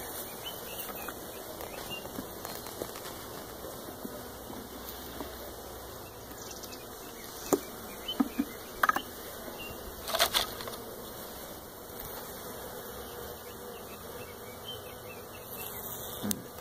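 Honey bees hum steadily around a queen bee during queen catching and marking, a continuous close buzzing swarm with a few louder passes and faint handling clicks, and no talking.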